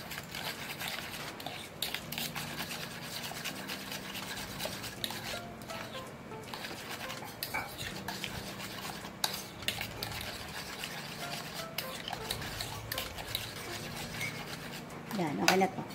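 Chocolate peanut ice cream mixture being mixed in a bowl, a quiet continuous rubbing and scraping of utensil against the bowl, with occasional clinks, close by.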